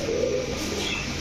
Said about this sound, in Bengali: আজকে অনেক নর কবুতর দেখাচ্ছে আমাদের রবিন ভাই।